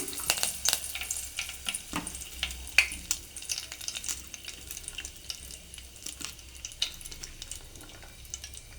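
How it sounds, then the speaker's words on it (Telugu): Curry leaves frying in hot oil crackle and pop in sharp, irregular bursts over a soft background sizzle, close and moderately quiet, with scattered stirring sounds. "కొద్దిగా బ్రౌన్ అయినాక కరివేపాకు వేసుకోవాలి."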